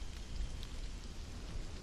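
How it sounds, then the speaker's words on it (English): Rain falling in the video game Stranded: Alien Dawn, a continuous soft hiss over a low rumble with faint scattered drops, no speech. "It's still raining."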